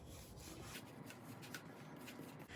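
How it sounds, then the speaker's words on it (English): Butter is rubbed over a baking pan for cinnamon rolls, a faint, soft, continuous scraping and smearing with slight swishing strokes, close by and without voices. "Now we're gonna go ahead and grease the pan with some butter."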